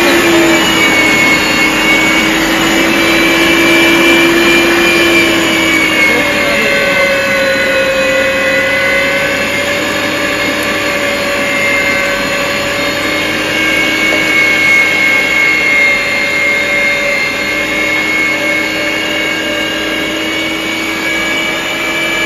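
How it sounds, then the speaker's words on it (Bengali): An electric keema machine mincing meat runs in a continuous, steady motor whine with sustained tonal hum, loud and close, no talk over it. "এই যে আমাদের একটা সুন্দর কিমা মেশিন আছে"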